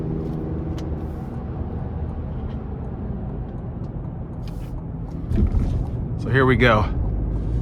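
A 2023 Chevrolet Colorado ZR2 Desert Boss pickup accelerates onto the interstate, a steady engine drone and road rumble from inside the cab that swells near the end, with a brief spoken line over it.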